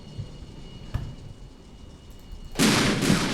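A tank gun fires in the Armored Brigade war game, a single loud broadband blast with a rumbling tail cutting in abruptly after a stretch of quiet low battlefield ambience.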